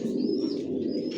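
Original racer pigeons coo in a loft, a steady low burbling murmur with faint higher chirps over it, close and continuous.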